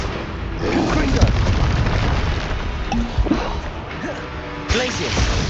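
Confringo fire spell explosions in Hogwarts Legacy, a series of booming blasts and crackling bursts in quick succession, mixed with spell-casting effects and a voice calling out spells.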